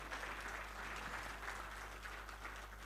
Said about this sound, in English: I thought you would clap better for her.